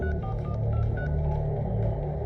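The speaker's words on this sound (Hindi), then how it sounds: "नागेश को फोन लगाओ।" Telephone number being dialed, a short run of keypad tones spaced a beat apart over a steady low background hum, with no voices.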